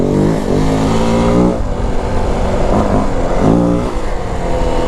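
A 2025 Yamaha WR450F dirt bike with a corked-up exhaust revs loud and close while riding on a trail, its engine surging and easing off in repeated throttle pulls.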